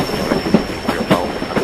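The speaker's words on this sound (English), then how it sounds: "Just this train is particularly long." A particularly long train rolls past close by, its wheels clacking in an irregular rhythm over a rumbling, squealing hiss, loud and continuous with no voices.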